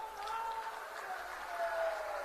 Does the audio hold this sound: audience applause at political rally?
yes